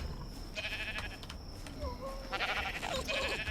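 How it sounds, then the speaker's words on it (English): Sheep bleating in the ARK Survival Ascended video game, several wavering calls overlapping near and clear against a low ambient game background, with faint voice under them. "I'm going to bring a couple of sheep with us"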